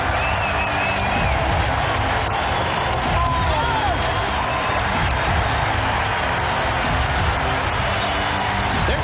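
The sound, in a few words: standing ovation from Wizards basketball crowd for Michael Jordan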